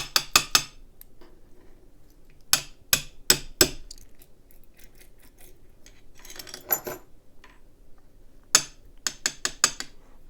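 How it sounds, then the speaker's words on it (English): Small metal lock pins drop out of a Cisa Astral S euro profile cylinder, landing in quick clusters of sharp, bright clicks and ticks separated by quiet pauses, close up with no talking. "we're going to try to drop out all of these passive pins"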